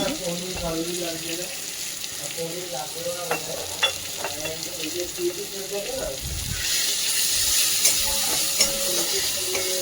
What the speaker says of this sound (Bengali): মশলাটা ভালো করে ভেজে নিই।